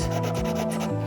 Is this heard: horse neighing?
no